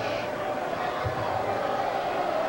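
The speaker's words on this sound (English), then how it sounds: "Good crowd sellout here in Littlejohn." A sellout basketball crowd fills Littlejohn Coliseum at Clemson during a Duke game, a steady, dense roar of many voices lasting throughout with no break.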